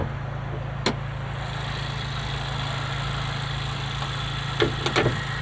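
Turbocharged 1.5-liter four-cylinder with VTEC in a 2025 Honda Civic Si idling with the hood up and no engine cover, a steady low hum with a few faint clicks and taps.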